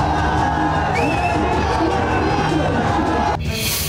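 A large crowd of BJP workers and supporters cheers and shouts along the streets at a CM Yogi Adityanath election roadshow in Gorakhpur, a loud continuous roar with whoops and chatter, and a whistle rising briefly.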